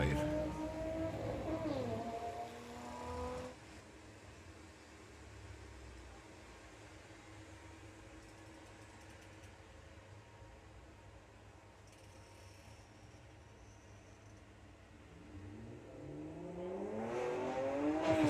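Volkswagen drag racing cars launch and accelerate down the strip at Santa Pod during VWDRC Festival of Power qualifying. Loud engine roar opens, fades into a distant steady drone, then swells again near the end. No talk.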